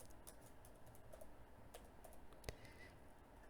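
Keys tap on a computer keyboard, typed with one hand, in sparse, quiet, uneven clicks with one sharper keystroke, and no talk.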